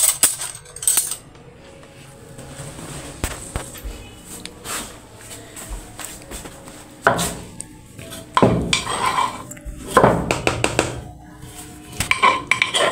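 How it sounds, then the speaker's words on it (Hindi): Spoons and utensils clatter in a home kitchen, metal scraping and clinking against dishes in repeated close bursts, louder handling near the end over a low background hum. "चम्मच उधर से चम्मच निकाल के दो, छोटा निकाल देते हैं।"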